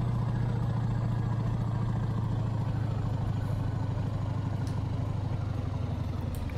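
Car engine from a 4 Series sound pack in a driving simulator game, a steady low droning hum held at constant revs throughout, loud and continuous with no voices.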